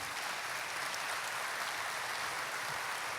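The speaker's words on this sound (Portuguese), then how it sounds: "Uma salva de palmas para esse irmão querido." A church congregation applauds throughout, a steady, dense wash of clapping that fills the whole stretch without a break.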